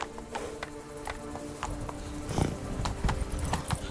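Rhythmic hoofbeats of a horse clip-clopping at a quick pace in the video game Witcher 3, close by, over a steady background hum.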